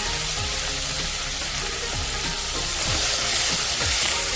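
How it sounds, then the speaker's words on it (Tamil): Steady, loud sizzling of vegetables with salt and turmeric frying in hot oil, with occasional stirring scrapes and no talking. "இதையும் இந்த எண்ணெயிலே நல்லா வதக்கி விட்டுக்கலாம்"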